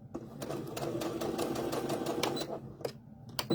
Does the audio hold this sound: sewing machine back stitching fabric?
yes